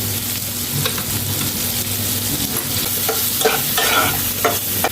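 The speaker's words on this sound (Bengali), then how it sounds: "এবার আলুটা একটু ভাজা করে নিই। আর এর মধ্যে একটু দেব হচ্ছে হলুদের গুঁড়ো।" Potatoes fry in hot oil with turmeric powder and a couple of broken chillies. A loud, close sizzle runs throughout, punctuated by repeated scraping stirs of a spatula against the pan and no speech.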